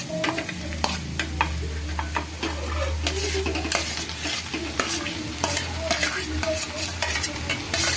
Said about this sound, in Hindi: तो ये आलू हम इसके अंदर डाल देंगे।